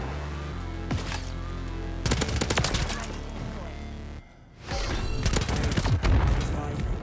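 Bursts of automatic gunfire from an AMR9 and other weapons in Call of Duty Modern Warfare III, loud and dense, coming in two clusters with a brief lull between them, under game music.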